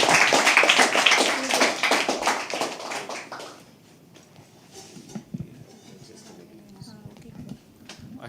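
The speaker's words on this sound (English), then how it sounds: "You have to keep clapping till he walks up on stage." Audience at a live poetry open mic claps steadily for about three and a half seconds, dense and close, then the applause fades into quieter room murmur with scattered faint taps.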